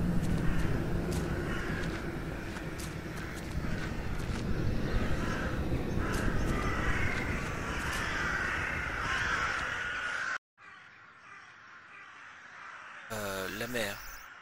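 Crows cawing in the video game The Last Door, repeated harsh caws over a dense ambient bed, followed by a brief dropout and quieter sounds.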